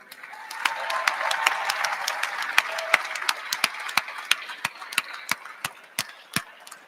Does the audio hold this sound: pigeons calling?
no